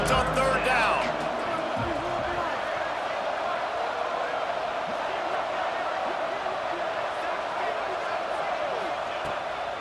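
Stadium crowd in a college football video game, a Texas Tech Red Raider home crowd roaring steadily on third down, a sustained dense wash of cheering beneath a play-by-play commentator's voice.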